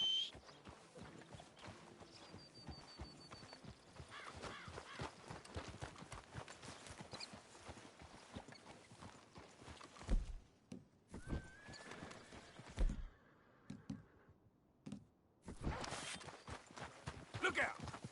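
A horse in Red Dead Redemption 2 clip-clops steadily on hooves with a whinny mixed in, under game noise and a few spoken lines, with some brief quiet gaps.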